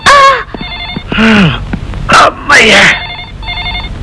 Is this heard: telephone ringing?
yes